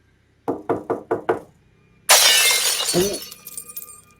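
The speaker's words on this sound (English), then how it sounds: "There was this quick and sudden loud bang on the glass, followed by a window in the kitchen completely shattering" Four quick, loud bangs on glass in a steady rhythm, then a sudden crash as a kitchen window shatters, the bright spray of breaking glass trailing off with scattered tinkling pieces, heard alone as a sound effect.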